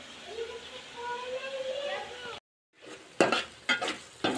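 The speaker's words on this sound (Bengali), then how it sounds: "এখন এটা হচ্ছে কষায় নেব ভালো মতন" Vegetables sautéing in a pan with an ongoing low sizzle and voice in the background, then a brief pause followed by sharp clinks and scrapes of a spoon stirring against the pan.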